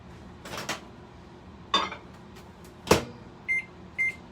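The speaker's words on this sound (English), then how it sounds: "I'm just gonna pop it in the microwave" Several clunks and thuds of a microwave door and handling, followed by two short electronic beeps from the oven's keypad.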